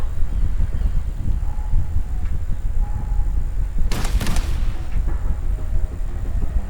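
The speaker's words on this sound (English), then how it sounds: "Gunfire! We've got intruders." A brief burst of sharp gunshots in the video game Wuthering Waves cracks over a low, rumbling background drone, loud and close, then the steady hum continues.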